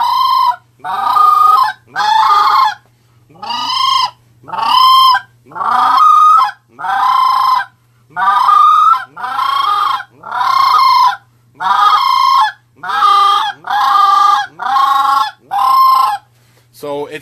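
A Triad Killer goose call blown in the higher Sandhill Crane style gives about fourteen loud, evenly spaced honking notes that break upward, alone and close.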